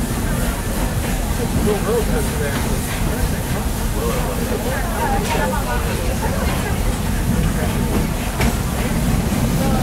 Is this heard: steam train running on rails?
yes